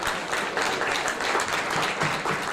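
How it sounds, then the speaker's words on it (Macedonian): A football crowd in Bitola applauds the departing Pobeda Prilep players with a steady wash of clapping, dense and continuous, heard from a distance across the stands. "битолската публика со аплауз ги испрати петовчани."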